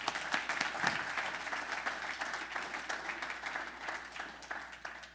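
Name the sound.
audience applause welcoming a speaker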